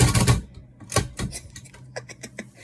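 Keys on an old typewriter clack in an uneven run of sharp strikes, loud and close at first, then lighter, quicker taps trailing off.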